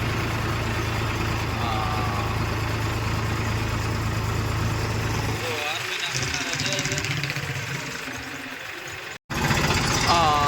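A Massey Ferguson 241 tractor engine chugs with a steady low drone, loud and close at first, then continues beneath people talking before briefly cutting out and returning.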